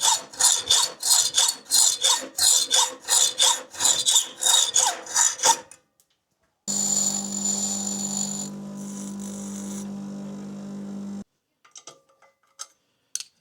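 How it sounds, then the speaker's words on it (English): Hacksaw cutting an M8 bolt down to 25 mm, a close, loud series of rasping back-and-forth strokes for several seconds, followed by a sustained machine hum and a few faint clinks. "They'll have to be made into M825s with a hacksaw"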